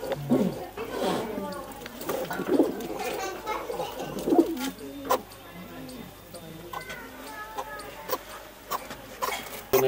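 Domestic pigeons coo in low, rolling repeated calls at close range while people talk steadily over them throughout.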